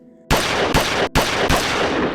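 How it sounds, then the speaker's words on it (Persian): Four loud, sharp gunshot sound effects fired in quick succession in a Resident Evil audiobook, each blast followed by a short ringing decay, with no voices. "کریس نشانه گرفت و شلیک کرد"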